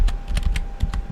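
Rapid clicks of a computer keyboard being typed on, about nine crisp keystrokes in quick irregular succession, close and alone.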